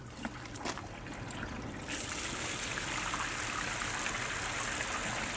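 Water surging out of an RV black tank during a flush, a thin trickle at first that abruptly swells into a loud, steady rushing gush that keeps going without talk.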